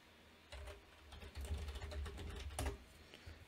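Faint, irregular keystrokes on a computer keyboard come in quick bursts with short pauses, including a few sharper clacks, in a quiet room.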